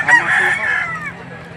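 A single loud, close rooster crow rings out at the Lipa City, Batangas livestock auction market, trailing off over a faint background hum.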